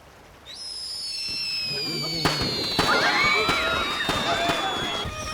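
Fireworks shoot up with rising whistles and crackle into sharp bursts, several loud pops spaced across the clip over a murmuring crowd.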